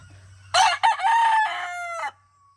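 Sweater gamecock rooster, a young stag just over a year old at a game farm, giving one loud, close crow that lasts about a second and a half, with a low hum in the background.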